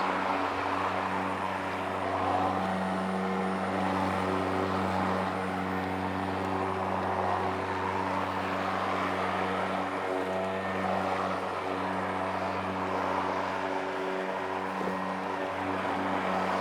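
A Kress 60V cordless electric lawn mower with a 46 cm deck runs steadily throughout, giving a constant close-up motor hum and whir with no talking.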